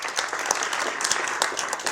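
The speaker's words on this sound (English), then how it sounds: "So please give that a round of applause." An audience at a county arts-funding event gives a round of applause, a dense, lively burst of many clapping hands with a few sharper claps standing out, heard alone for about two seconds.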